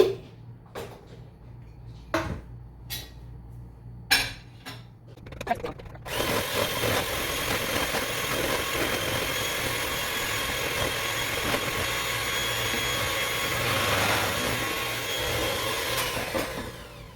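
Electric mixer beating sugar and brown sugar into allergen-free cookie dough: a few scattered knocks and clatters first, then a loud steady whirring drone that runs continuously to the end.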